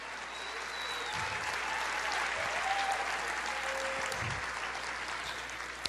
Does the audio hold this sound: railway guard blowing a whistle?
no